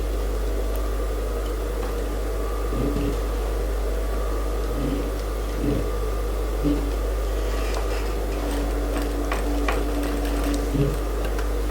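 A sewing machine stitching a women's suit runs in short intermittent bursts of mechanical whirring against a steady low hum, with faint handling noises between runs.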